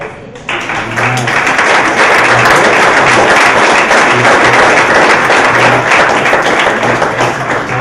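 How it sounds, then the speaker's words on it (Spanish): Strong, sustained applause from a conference audience after a closing speech on accreditation of virtual programmes, dense and steady for nearly eight seconds with a few louder claps. "un aplauso a ustedes."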